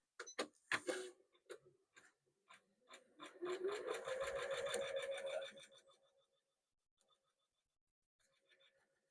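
A sewing machine stitches a quilt with black thread. Quick separate needle taps come first, then a steady whirring run of about two seconds, and the sound fades to a few faint clicks in near silence.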